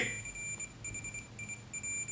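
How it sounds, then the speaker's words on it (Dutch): iPhone ringtone set off by a voice command to Siri, a bright repeating electronic tone pattern pulsing in short bursts over a low background hum, fairly close and steady. "Hey Siri, rinkel Exter"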